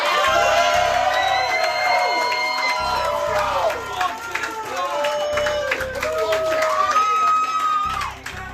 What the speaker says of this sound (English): The audience cheers for Natalie